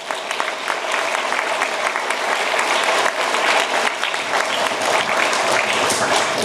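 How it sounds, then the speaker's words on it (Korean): Loud, continuous applause from a lecture audience greeting National Assembly member Park Beom-gye, dense clapping filling the room without pause. "여러분 박범계 의원도 박수 한번 쳐야죠."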